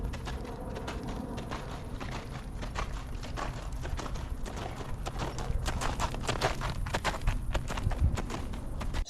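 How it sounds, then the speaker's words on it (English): Horse hooves striking the ground in a steady clip-clop rhythm, a run of sharp, distinct impacts close by that grow slightly louder toward the end, with no talking. "Horses produce sounds as their hooves come in contact with the ground."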